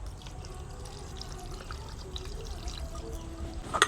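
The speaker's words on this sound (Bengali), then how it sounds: "এবারে এর মধ্যে দিয়ে দেবো 250 ml জল।" About 250 ml of water is poured into a pot of Bihari-style mutton Champaran curry, giving a soft, steady stream that splashes slightly louder at the end.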